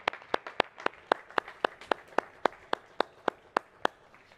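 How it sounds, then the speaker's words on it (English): Steady, evenly spaced claps follow the filmmakers at an evening summit event. The clapping is sparse and close, a few hands beating a regular rhythm, with no voices. "Please join me in giving our filmmakers another big round of applause"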